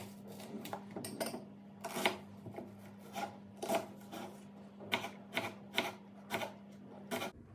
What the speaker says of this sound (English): What I'm going to do is cut the vegetables, and by vegetables I mean the onion and the pepper.